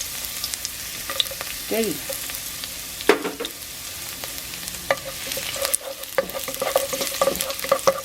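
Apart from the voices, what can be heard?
garlic sautéing in a little cooking oil with pork belly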